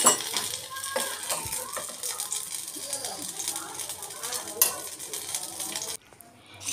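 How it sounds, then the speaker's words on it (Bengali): Pointed gourd (potol) fries in a pan, a close crackling sizzle with stirring scrapes and utensil clinks, someone talking intermittently over it, before it cuts to near quiet at the end. "আমি এবার এই পাশটাও বেশ সুন্দর করে ভেজে নেব।"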